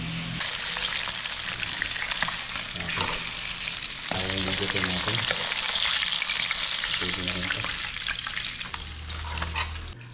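Tilapia fries in hot oil outdoors, giving a loud, continuous sizzle and crackle throughout, with some stirring and clattering, while a person speaks briefly over it.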